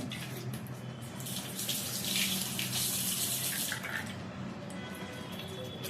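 Water from an herbal soap mixture drains steadily through a cloth strainer, a continuous close splashing trickle lasting several seconds with no voices.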